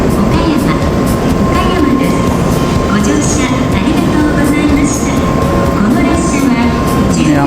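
A Japanese bullet train at a station platform, a loud steady rumble of rolling carriages with rhythmic wheel clatter and a faint tonal hum, while people talk nearby.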